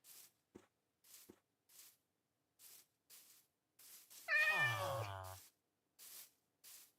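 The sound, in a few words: cat meowing in video game Minecraft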